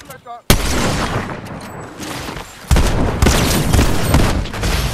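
Gunshots from a Fortnite match, a sharp loud shot followed by bursts of heavy gunfire and booming impacts, close and harsh, with voices briefly audible in the mix.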